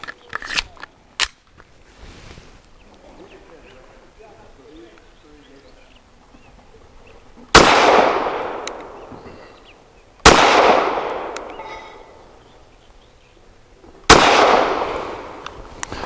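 A Walther WMP rifle fires Winchester Gray Box 40-grain full metal jacket varmint ammunition outdoors, three loud, sharp shots spaced a few seconds apart, each with a decaying echo, after faint handling clicks.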